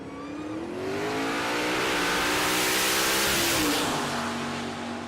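A 2000 Chevrolet Silverado in the Outlaw Street drag racing class launches and accelerates hard down the strip, a loud rising engine roar with climbing gear-by-gear pitch that swells and passes close, then fades slightly.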